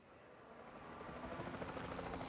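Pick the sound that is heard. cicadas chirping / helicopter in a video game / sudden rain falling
helicopter in a video game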